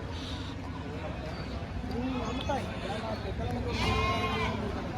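Pregnant sheep bleat repeatedly at a livestock market in Pileru, wavering cries rising over a steady crowd din, with people talking throughout.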